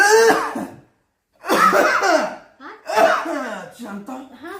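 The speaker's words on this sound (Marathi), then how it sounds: "आता खोकला आला" Close, loud bursts of coughing mixed with laughter from a person, in two main clusters separated by a brief silence, with voiced, breathy gasps between them.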